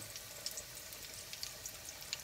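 Breaded pollock fillets fry in hot oil with a soft, steady crackle and scattered little pops. The sound is faint and close, with no voices.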